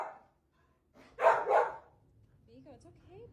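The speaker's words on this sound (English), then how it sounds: "he jumps up and will start barking and running towards the door" A dog barks in two loud close bursts as it rushes toward the door, after a brief quiet start, with faint movement noise trailing off.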